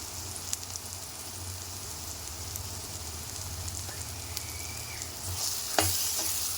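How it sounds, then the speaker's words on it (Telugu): Cabbage curry with ginger paste and turmeric sizzles steadily in a pan while a spoon stirs it, making soft scraping sounds over a continuous close frying hiss. "ఇదంతా ఒకసారి మంచిగా కలుపుకోవాలండి."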